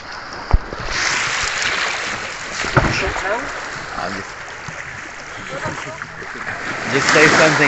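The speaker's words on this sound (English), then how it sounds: "The short tail boat." A traditional Thai short tail boat on the water in southern Thailand, its engine droning and hull splashing through waves, with voices talking over the steady wash.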